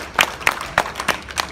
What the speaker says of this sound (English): Let's give these exhibitors a nice round of applause.